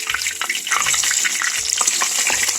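Pabda fish frying in a pan over a high flame, a steady loud sizzle with crackling pops throughout, alone with no talk.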